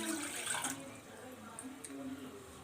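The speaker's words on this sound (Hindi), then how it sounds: "इसमें हम पानी ऐड करेंगे" Water pours into a pan for mint kehwa, a soft splashing and trickling stream at close range that eases off partway through, with quiet kitchen background.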